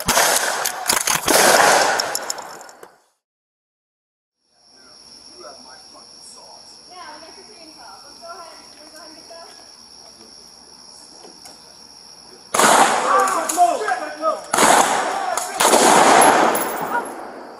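Gunfire during a police standoff with an armed man in crisis in Burke, Fairfax County: a loud burst of shots opens, then a quiet stretch with a faint radio tone, then more sharp, loud blasts near the end.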